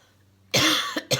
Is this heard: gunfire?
no